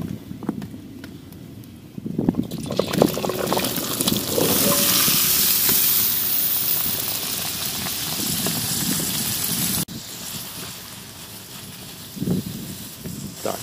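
Potatoes sizzle loudly in hot oil in a kazan on a tandoor, a dense steady crackle broken now and then by stirring and scraping.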